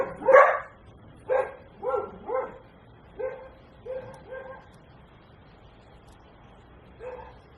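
Dogs bark in a series of sharp, separate bursts, some in quick pairs, fairly close, with short quiet gaps between.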